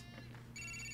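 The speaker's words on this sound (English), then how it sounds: "The phone's ringing." A phone rings in the video game Grand Theft Auto 4, with a steady electronic ringtone that grows louder and fuller halfway through and plays alone with no talk.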